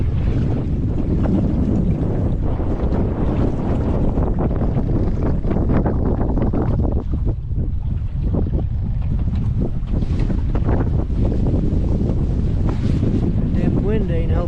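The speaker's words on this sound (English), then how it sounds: "Damn wind ain't helping us at all." Heavy wind buffeting the microphone on a boat ride at Hoover Dam, a constant low roar that stays loud and steady throughout, with faint voices and water noise mixed underneath.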